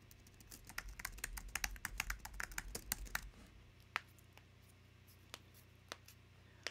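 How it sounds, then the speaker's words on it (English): Rapid, close keystrokes rattle on a computer keyboard for about three seconds. A few isolated, sparser key taps follow in a quiet room. No voices. "I feel like I don't type as well as I used to. I need to like start typing some more."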